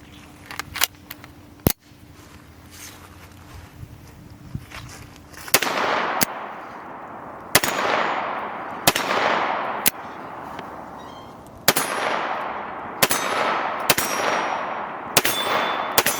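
Repeated loud gunshots from a Wilson Combat EDC X9 L pistol fired outdoors, about nine sharp cracks spaced a second or two apart, each with a ringing decay, over a faint steady background.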